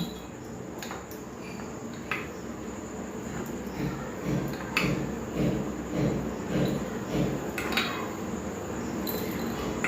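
Chilli pieces dropped into tea cups in a home kitchen, giving a series of faint light clinks and taps against ceramic over a steady background hiss, without talk.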